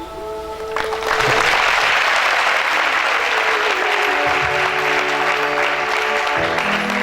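Loud, steady applause from a church audience at a pastor's sermon, sustained clapping that fills the whole stretch after a brief quieter start.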